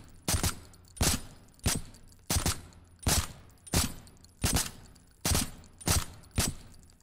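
Gunshots fired in the VR shooter game Contractors, played with a ProTubeVR gun stock and MagTubeVR magazine: ten sharp, loud shots in a steady rhythm about two-thirds of a second apart, each with a short decaying tail, close and alone.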